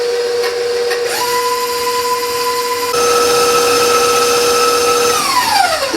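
An electric mixer creaming shortbread dough whines steadily and loudly, its pitch stepping up, holding, then sliding down as the speed changes, with no talking.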